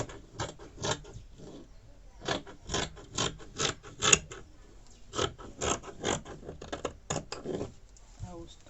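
Scissors cutting fabric around a blouse neckline, a series of short crisp snips in an irregular rhythm, close and fairly quiet, with faint rustling between cuts.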